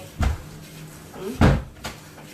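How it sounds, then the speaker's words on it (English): Indoor door banging shut in a home kitchen, a sharp thud followed by a second heavier slam and a lighter knock, fairly close, with faint voices and kitchen activity between. "Jeremiah, stop banging doors."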